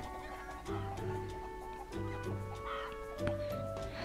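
Chickens in a Roblox egg-farming game cluck repeatedly in short, fairly quiet bursts over a constant background hum, with no one speaking.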